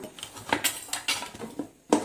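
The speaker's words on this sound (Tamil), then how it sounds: "குக்கர் விசில் வந்துட்டு கழட்டிட்டு ஓப்பன் பண்ணி பார்த்தோம்னா" Metal pot and lid clatter as a pressure cooker of veg biryani is opened after its whistle, with several sharp clanks and scrapes in an irregular rhythm, close and moderately loud with no voices.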